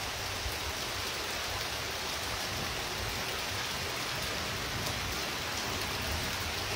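Steady rain falls in Macaúbas, Bahia, a dense, even hiss of drops striking surfaces that holds at the same loudness from start to finish, with no voices.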